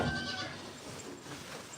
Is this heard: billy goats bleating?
yes